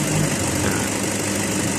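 A car engine idles steadily up close while an engine-speed tester reads the idle, a dense continuous drone with even vibration and no change in revs throughout.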